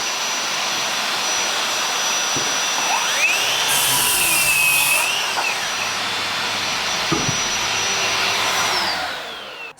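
A Ryobi ONE+ HP 18V brushless cordless 7-1/4 in. circular saw runs with no load, giving a loud, steady high whine that holds for nearly ten seconds before spinning down at the end.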